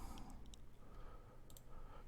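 A computer mouse clicking during modelling software work: a few faint, sharp clicks, one single and then a quick pair, against a quiet room hum.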